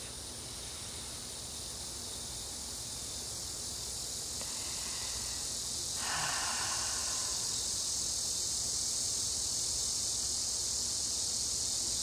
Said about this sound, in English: The cicadas have decided to join us.